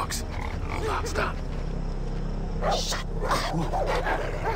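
Dogs bark in the video game Far Cry 3, a few short, loud-ish barks spaced through the stretch, mixed with game ambience while someone talks over them.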